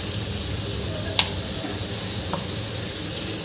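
Ground masala water poured into a sizzling Maharashtrian potato curry on a medium gas flame gives a steady close frying hiss with a couple of brief splashy bursts, and no voices.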